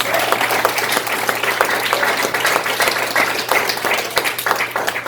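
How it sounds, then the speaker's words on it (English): Applause at a SPEAKHIRE soirée, a steady, moderately dense round of clapping from an audience heard clearly for several seconds over a low hum. "So can we give them a round of applause?"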